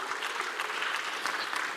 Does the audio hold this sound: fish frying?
no